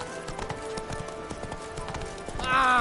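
Geralt's horse Roach galloping in The Witcher 3 video game, rapid rhythmic hoofbeats close and steady, growing louder toward the end with music over it.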